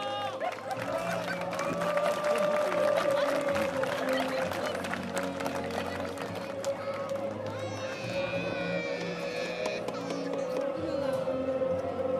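Crowd applause with scattered cheering at a two-on-two combat tournament, a steady loud wash of clapping under a constant tonal hum and background voices.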